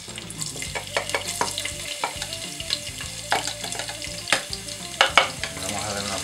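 Garlic dropped into hot oil fries with a steady, loud sizzle and crackle, stirred now and then, close up with no voices.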